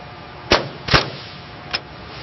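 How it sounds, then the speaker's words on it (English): Pin gun firing pins into vehicle track segments: three sharp, loud pneumatic bangs, two close together and a lighter one a moment later, over steady factory hum. "Pin gun going in."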